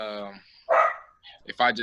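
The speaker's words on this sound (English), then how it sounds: "my bad, my dog barking" A pet dog barks nearby in a few sharp, loud yips mixed in with a voice talking during a basketball interview.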